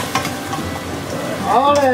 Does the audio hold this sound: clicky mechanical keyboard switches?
no